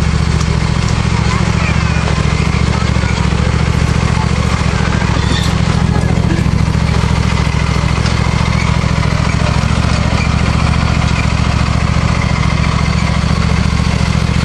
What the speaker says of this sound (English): Tractor ride in October.